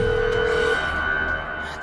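A telephone rings unanswered with a loud, steady electronic tone that holds close and continuous, heard alone without voices.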